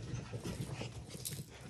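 A dog pants steadily and close by in a low, rhythmic run of quick breaths that holds for the whole short stretch, with no talking over it.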